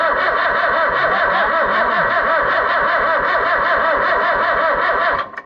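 An Oliver 1365 tractor engine cranks steadily without catching, a loud, rapid, even chugging of the starter that runs for about five seconds and then cuts off abruptly.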